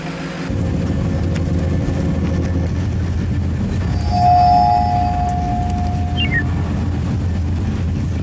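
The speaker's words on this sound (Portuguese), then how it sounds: "Encontrei finalmente a estação de comboios." Steady low rumble of a train at a railway station, with a high tonal whine rising midway and a brief squeal near the end, loud and continuous throughout.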